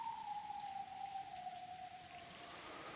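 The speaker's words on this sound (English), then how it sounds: "Outside it was still raining." Steady rain falling in the visual novel Umineko When They Cry, a dense even wash of drops alone, with a faint falling tone sliding through it.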